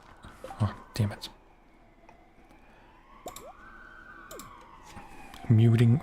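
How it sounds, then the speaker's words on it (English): A rising and falling emergency siren wails outside, sweeping up and down across several seconds at moderate distance, with scattered clicks and brief speech around it. "Muting for the siren."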